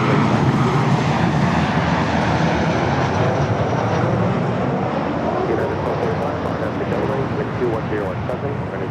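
An airliner takes off from runway 24 left at Los Angeles International Airport, its jet engines a loud, steady broadband roar that fills the whole stretch without a break.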